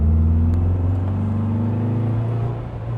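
A 1959 Porsche 356A Convertible D engine drones steadily while driving on winding roads, a low mid-pitched hum that eases off slightly near the end.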